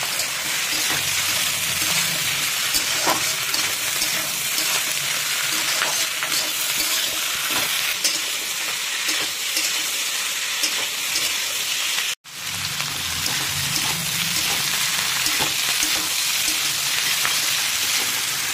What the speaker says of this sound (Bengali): এখানে পেঁয়াজ কলিটা তো ভাজা চলছে